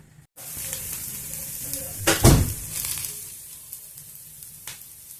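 Chopped onions with green chillies sizzle and fry in a pan for radish chutney, a steady close hiss with a brief louder burst of stirring, no voices.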